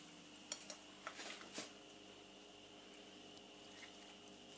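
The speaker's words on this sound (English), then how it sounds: "now we're going to add the fish back into the sauce" Fish is stirred gently into a sauce for fish pie, with faint, quiet scrapes and clinks of a utensil against the pan, a few soft taps early on and near the end.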